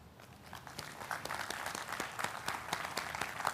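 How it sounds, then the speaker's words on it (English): An audience applauds with a steady, fairly distant wash of clapping that gradually swells. "Can I have a huge round of applause for Jenson."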